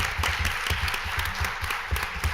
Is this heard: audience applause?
yes